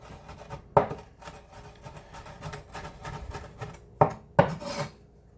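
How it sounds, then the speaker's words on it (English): Knife chopping and crushing garlic on a wooden cutting board sprinkled with salt, producing irregular scraping, rasping strokes with a few sharper knocks, close and moderately loud, with no talking. "Chop it up more finely."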